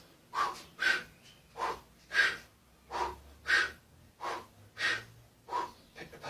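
Sharp, forceful breaths repeat in a steady rhythm of about nine bursts, each a close, audible huff during a joint-mobility warm-up routine, with no voices in between.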